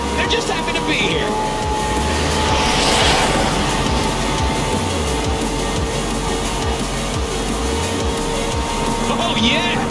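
Jets roar overhead in the racing game Forza Horizon 4, a loud, continuous engine rush with a slowly swelling peak, layered over steady background noise and music.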